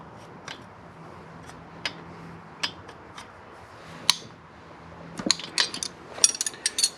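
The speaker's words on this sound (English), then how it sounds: "You've got to hold the 5/16 wrench and the top wrench while tightening the nut on the push rod." Wrenches click and ratchet while tightening the push rod nut on a Harley-Davidson M8 engine during a cam chest upgrade, sparse metallic ticks and taps close by that grow busier toward the end.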